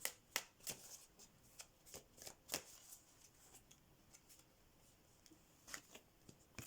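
Tarot cards are shuffled and drawn close by, with quiet, crisp riffles and sharp flicks in an irregular patter of soft taps and slides, and no talking.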